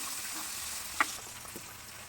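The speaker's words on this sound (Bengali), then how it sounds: "এবার পেঁয়াজ আর শুধুমাত্র কাঁচামরিচ এই দুটোকে আমরা একটু ভাজা ভাজা করে নেবো" Onion and green chili frying in a pan give a soft, steady sizzle and hiss, fairly quiet, with one brief clink near the middle and no talking.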